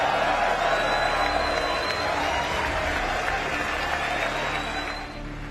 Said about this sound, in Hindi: पीएम मोदी के भाषण पर 75 बार तालियां बजी।